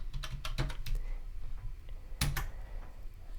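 Fingers type a short number on a computer keyboard, a quick cluster of close, crisp key clicks, then a pause and a couple more taps, over quiet room tone.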